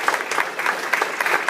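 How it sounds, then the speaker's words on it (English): Audience applause at a sports and tech meetup, a steady round of clapping from a crowd lasting the full moment, fairly close and dense with no talking over it. "also a round of applause for our sponsor, Orrick, and our beer sponsor,"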